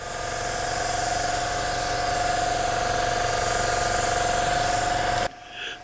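A paint spray gun hisses out sealer on a partial trigger pull, a loud continuous close spray with a faint steady tone that runs for about five seconds before cutting off abruptly.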